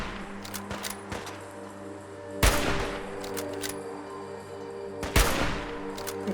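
Gunfire in Fallout 3's Point Lookout, with two sharp, loud shots about three seconds apart standing out over a steady hum of game ambience and faint, scattered background sounds.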